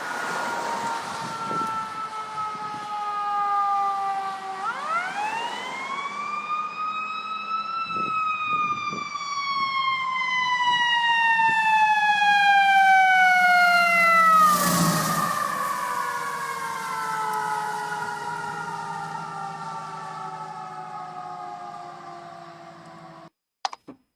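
A loud fire truck siren wails as it passes, its pitch rising as it approaches and then sliding steadily lower as it moves away, with rumbling traffic underneath.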